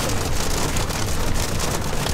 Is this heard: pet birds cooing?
no